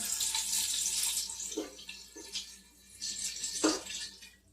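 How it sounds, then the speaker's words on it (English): Water streams steadily from a tap into a Ninja Foodi pot of noodles, hissing and splashing close up, with a few knocks and clunks along the way. "watching someone fill a thing with water"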